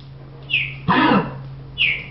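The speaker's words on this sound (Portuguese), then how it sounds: "E a Space tá tossindo igual um cachorro." Cough from a character in The Sims 2 game, one short burst near the middle of the clip with brief chirpy game sounds just before and after it, over a steady low hum.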